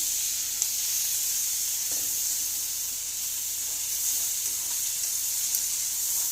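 Potatoes sizzle as they fry in a cooker, giving a steady, bright hiss. It stays close and fairly loud, without pause, and no one speaks over it.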